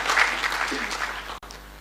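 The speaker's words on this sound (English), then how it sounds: "We need to give them a round of applause for that wonderful job" A brief, full round of applause from the audience at the launch of a Teachers Service Commission strategic plan, honouring teachers. The clapping sounds dense and close, then cuts off abruptly partway through.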